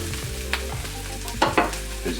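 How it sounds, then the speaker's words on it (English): Cayenne peppers fry and blister in a hot pan for hot sauce, giving a steady close sizzle with a few sharper pops and stirring scrapes, loud and continuous with no talking. "You just want to cook it till these peppers start to blister just a bit."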